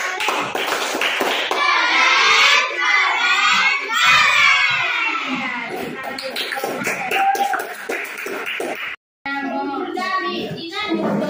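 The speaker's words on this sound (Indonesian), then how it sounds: "Ya, kasih tepuk keren untuk temannya" Classroom children loudly chant and clap the tepuk keren clapping routine together, voices and rhythmic claps overlapping continuously, with a brief pause near the end before the shouting resumes.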